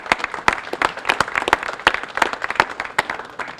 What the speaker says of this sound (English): Let's have a round of applause for both of them.